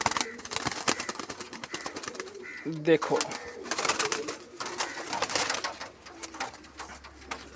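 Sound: pigeons cooing

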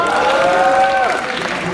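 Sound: audience applause

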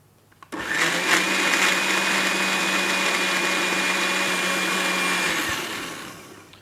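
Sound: blender blending cocoa mixture

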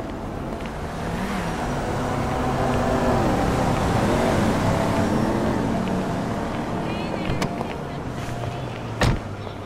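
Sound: car driving in video game GTA V

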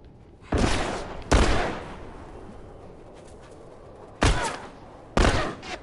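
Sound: gunfire in video game The Last of Us

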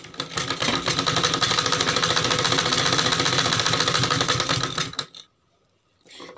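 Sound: sewing machine stitching a blouse strip

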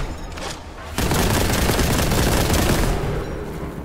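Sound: gunfire shooting an enemy champion in Warhammer 40k Boltgun video game

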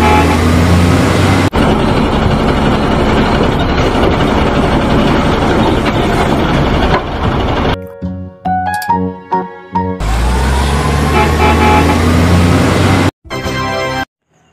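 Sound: garbage truck sounds

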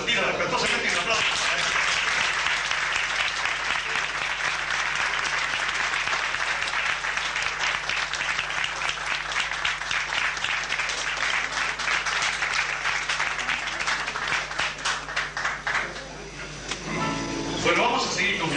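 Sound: audience applause at a tango show

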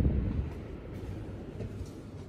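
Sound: mini split air conditioner fan running on high in a Sprinter van

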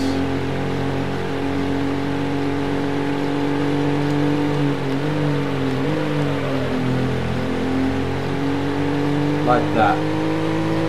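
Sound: Ferrari car racing, Need For Speed 4 video game

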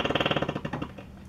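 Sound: propeller jetpack sound in Majora's Mask 3D video game

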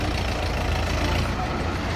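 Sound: mini tractor driving out

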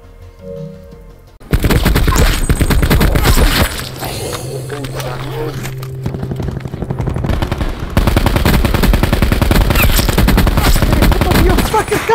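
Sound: gunfire in Black Ops 4 Blackout video game

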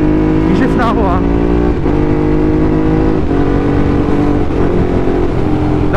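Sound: Ducati Hypermotard motorcycle clutchless gear shifting

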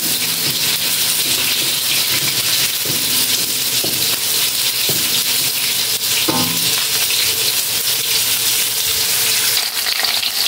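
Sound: tofu frying in a wok

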